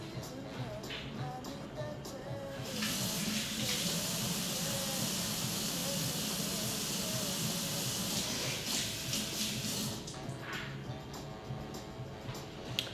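Tap water runs into a sink while hands are washed, a steady rushing hiss that grows louder for several seconds in the middle and then eases back to a softer flow, with low kitchen background underneath.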